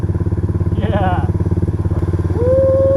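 A motorcycle rides through a swamp on an overland trip in Tajikistan, its engine a loud, steady, close throbbing drone with a rhythmic pulse. A brief splashy whine and a rising tone come in partway through.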